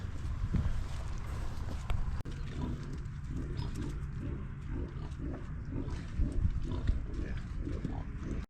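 Pigs on a farm at feeding time grunt repeatedly in a steady, rhythmic series of short grunts over a continuous low rumbling background, fairly close and moderately loud throughout.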